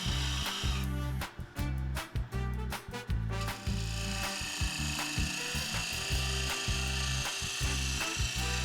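A wood lathe spins a silky oak bowl as a gouge takes heavy cuts, producing a loud, close, sustained rumbling hum with rough scraping bursts early on, then a steadier whirring cut.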